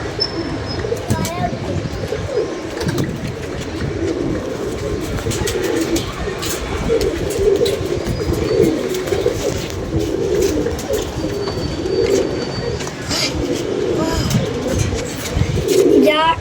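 Pigeons coo in repeated soft, throaty bursts at a pigeon-keeping rooftop, with occasional chirps around them. A voice talks over the birds at close range.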